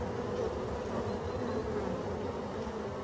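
Dense steady buzzing of many honeybees flying around a busy apiary hive during a heavy pollen flow in Brittany, a continuous close drone with no voices.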